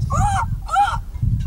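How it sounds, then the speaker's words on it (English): Three loud, harmonic gull-like calls, each about a third of a second, ring out over a low rumbling background. "When you hear the call of the gull"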